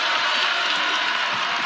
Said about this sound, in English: Crowd starting to come alive again here as the lead is dipping down a little